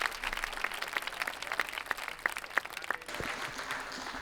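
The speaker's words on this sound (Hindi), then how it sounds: "मेरे साथ आपकी तालियों की गूंज शामिल होनी चाहिए" An audience at a mushaira poetry recital and kavi sammelan in Lucknow claps in a steady burst of applause, a dense patter of many hands at moderate distance with a murmur of crowd beneath.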